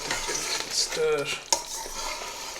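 A spoon stirring kofta curry in a pan after cumin powder and chopped fresh coriander are added, soft scraping and scooping with a light sizzle and a sharp clink of metal against the pan midway.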